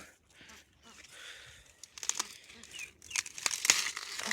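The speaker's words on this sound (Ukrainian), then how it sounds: "Пару качанчиків візьму і зірву." Leafy rustling and crinkling build into sharp tearing snaps as corn cobs are pulled from the stalk, close and fairly quiet.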